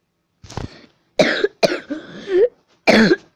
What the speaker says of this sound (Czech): Jak můžete slyšet, to už jsem asi říkal, mám kašel.